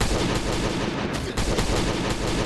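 Gunfire in Last Day on Earth comes as dense, loud, rapid automatic bursts that rattle on almost without pause, close and harsh, with no speech over it.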